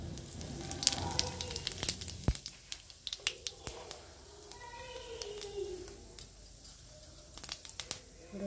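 Cumin seeds dropped into hot oil for a besan and bottle gourd curry, giving a faint, crackly sizzle with scattered sharp pops and spits, close and fairly quiet.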